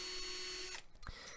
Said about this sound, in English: I have to drill out the interior